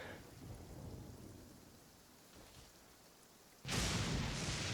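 Steady rain falls in the game Genshin Impact, with a low rumble of thunder building before a sudden, loud crack of thunder breaks over the downpour near the end.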